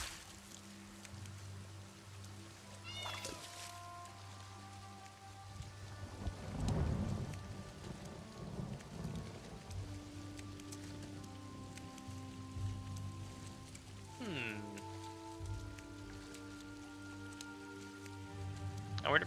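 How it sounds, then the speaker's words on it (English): Steady rain patters throughout a stormy scene in the video game Elder Scrolls Online, with a low rumble of thunder in the middle. Scattered tonal game sounds are layered over the constant downpour. "I wonder if it's gonna keep raining."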